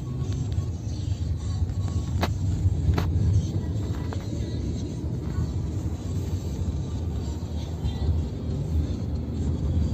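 A 2008 Mercedes-Benz C230 (W204) with a 2.5-litre engine drives along, its steady low rumble and road noise continuous and fairly quiet throughout, with no talking.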